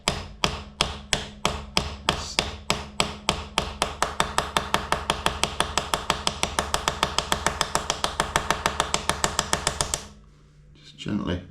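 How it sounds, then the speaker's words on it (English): A hammer taps a countershaft seal flush on a 2017 KTM EXC-F in a steady, rapid series of sharp metallic knocks, speeding up slightly over about ten seconds before stopping; a short rustle follows. "Just gently start tapping that in"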